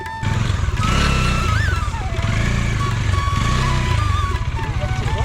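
A motorcycle on a road trip toward Ayodhya, its engine droning steadily and loudly throughout, with horns and traffic tones sounding over it and faint voices nearby.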